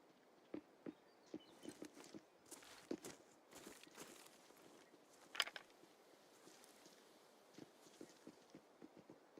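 Scav footsteps in the video game Arena Breakout, a quiet irregular series of light steps on a hard surface, some nearer and some farther, with one sharper thud in the middle.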